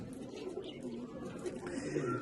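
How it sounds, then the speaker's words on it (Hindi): Shirazi pigeons coo softly in a breeding setup, low murmuring calls close by with a faint background hum. "इसमें शिराजी कबूतर हैं"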